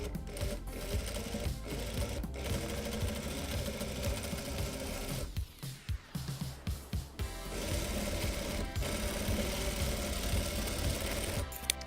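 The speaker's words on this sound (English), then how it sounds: "What you want to do is you want to make sure that you sew on the left side of it" A sewing machine stitches the seam of a reversible tote bag along its left side, a steady continuous whirr that breaks into short stop-start bursts partway through before resuming its even run, close and loud, with no talking.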